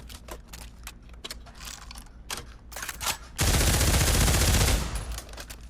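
A heavy suppression machine gun in Pavlov VR fires a loud, sustained burst of rapid rounds that roars for over a second, preceded by clacking handling and loading clicks.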